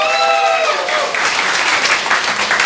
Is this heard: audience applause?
yes